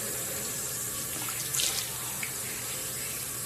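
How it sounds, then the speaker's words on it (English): Cold water runs steadily from a tap into a sink as a face is washed, a continuous hiss close by with a brief splashing surge midway, no talking. "So I'm just washing off the mask now. With, of course, cold water"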